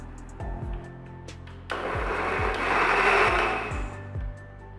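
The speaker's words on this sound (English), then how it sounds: "Add it to the blender and make a smooth puree." An electric blender purees an onion and tomato base for butter chicken masala, starting abruptly after a few light knocks and running as a loud, steady whirring grind for several seconds before easing off.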